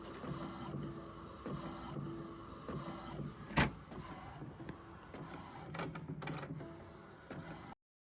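Epson EW-M973A3T A3 inkjet printer feeding and printing a sheet, a steady mechanical whir with clicks and one sharp clunk midway, more rattling near the end before it stops abruptly; close and fairly quiet.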